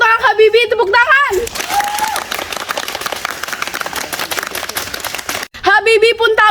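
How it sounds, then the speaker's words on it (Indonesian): An audience at a school drama breaks into loud, sustained hand clapping for several seconds, with voices speaking just before and after it. "Yang mau tolak Habibie, tepuk tangan."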